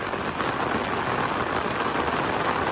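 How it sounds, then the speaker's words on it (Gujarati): Heavy rain pours down by a cattle shed on a Kankrej cow farm during a dark monsoon storm, a steady, dense, loud hiss of drops with no pauses and no voices. "જબરજસ્ત વરસાદ ચાલુ છે"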